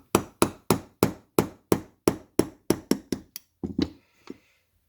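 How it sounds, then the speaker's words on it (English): A fine wire pin being driven out of an Armscor M1600 rifle with a small hammer: about a dozen crisp, evenly spaced metallic taps, close and sharp, then a few slower, softer knocks as it comes loose. "I'm going to start tapping out this fine wire pin."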